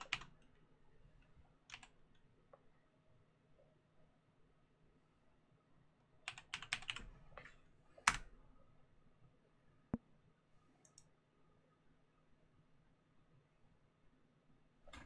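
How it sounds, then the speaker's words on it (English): A server password typed on a computer keyboard: sparse, quiet key clicks, then a short burst of quicker keystrokes and a louder final press, with pauses between, close in an otherwise quiet room. "Make sure I've got the server password correct. All right. Let's see. I'll type it again."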